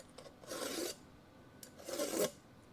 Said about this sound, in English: I like deburring everything.